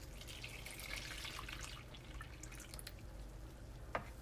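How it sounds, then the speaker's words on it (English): Cold milk pours into a bowl while a pistachio cake is being prepared, a steady close liquid trickle and splash running throughout, ending with a small clink near the end. "I'm going to go ahead and get this cold milk in here."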